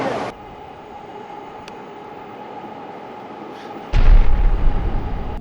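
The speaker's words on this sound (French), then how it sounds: "On va passer tous les trains de la région pendant qu'on y est." A train passing in Japan, a steady low rumble that swells suddenly into a loud, close roar of wheels and carriages near the end.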